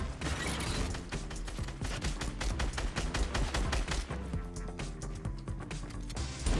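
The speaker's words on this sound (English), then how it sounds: "And he's shooting me down!" Dense, rapid gunfire from a video game, with continuous loud bursts of shots and mechanical clatter filling the whole stretch and no voices.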